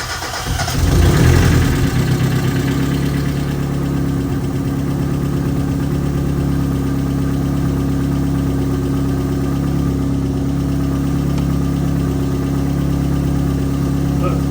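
A Mazda Miata engine cranks and fires about a second in, then settles into a steady, close, even idle that carries on unbroken.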